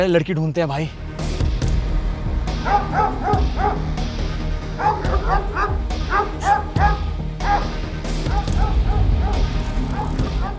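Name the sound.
dog barking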